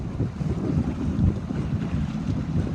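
Wind buffets the microphone out on the water at a Sabot sailing regatta, a loud, continuous low rumble with faint water wash beneath and no speech.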